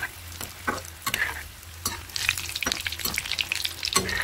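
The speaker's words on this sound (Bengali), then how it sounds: "তিনটে আগে ভেজে নিই লাল লাল করে ভাজতে হবে" Vegetable chops deep-frying in oil as they turn golden red, a bubbling sizzle broken by repeated sharp scrapes and knocks of stirring at an irregular rhythm, close up with no talk.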